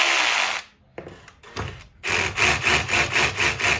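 A drill driver runs in stuttering bursts against machine screws on a Genie Excelerator garage door opener, a loud close whirring that starts and stops, then ratchets rhythmically like an impact driver.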